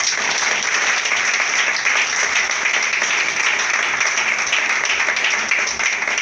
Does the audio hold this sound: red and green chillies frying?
no